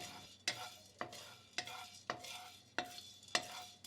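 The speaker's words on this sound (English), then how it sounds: "First lightly roast your Szechuan peppercorns" Szechuan peppercorns being lightly dry-roasted in a pan, with sharp scraping and tossing strokes about every half second, close and clear with no talking.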